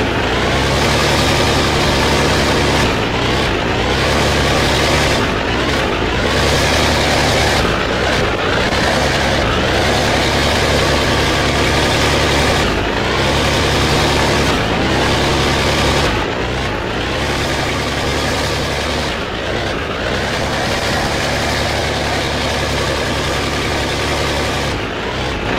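Daihatsu Taft GT engine in Spintires: MudRunner running loud and steady throughout, a deep rumbling drone with brief revving surges and dips, no talking.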